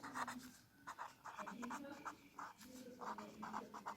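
Chalk or marker scratching across a board during a maths lesson, a series of short, quiet strokes in quick bursts with small pauses between them, with no talking.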